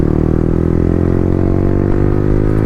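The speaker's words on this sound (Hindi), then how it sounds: "और भाई ये R9 का साउंड एंजॉय करो भाई।" Motorcycle fitted with an Akrapovic R9 exhaust and no dB killer, idling and revving steadily with a loud, close, throaty engine note that holds and slowly rises in pitch.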